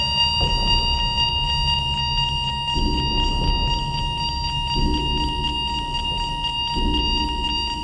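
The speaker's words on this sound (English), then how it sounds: "numerous alarm clocks will go off up and down the hall." Several alarm clocks ring at once up and down a hotel hallway at night, loud layered electronic beeping tones that hold steadily throughout, with a pulsing low buzz repeating underneath every couple of seconds.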